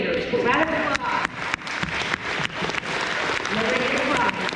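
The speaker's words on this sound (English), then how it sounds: "Round of applause." A crowd at an elementary school awards ceremony claps steadily in a dense, sustained round of applause, with a few voices mixed in.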